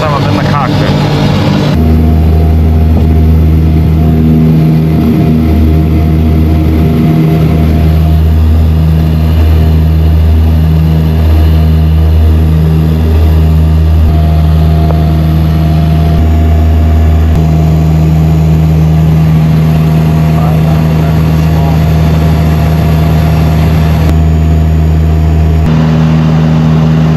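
A propeller aircraft engine heard from inside the cockpit on a flight toward American Samoa, a loud, constant droning roar with steady tonal hum that persists throughout, and voices occasionally talking over it.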